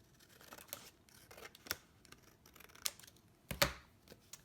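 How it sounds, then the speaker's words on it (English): Scissors snip through layered paper in a series of soft, irregular cuts. A few sharper clicks stand out among the quiet crunching, and the sound is close and faint. "I'm just using my white layer to guide where I'm cutting."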